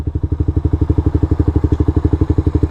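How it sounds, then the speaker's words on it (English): Motorcycle engine at low revs as the rider brakes to a stop, a loud, close, evenly pulsing thump with a steady rhythm and no talk. "then just apply your brake until you go to a stop"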